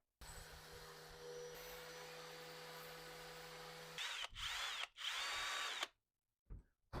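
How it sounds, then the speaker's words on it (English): A cut steel brake line tube for a 1932 Ford hot rod is deburred with a whirring power tool: a steady high drone for several seconds, then short, sharp grinding bursts separated by brief silences. "time to kind of clean this up, deburr it before we start bending"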